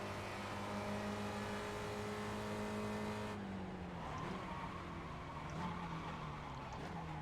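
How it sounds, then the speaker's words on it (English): A Spec Racer Ford race car in the iRacing video game at Lime Rock, with a steady engine drone that drops as the front tires lock up under braking, followed by lower, wavering engine tones. "Big lockup of the front tires there."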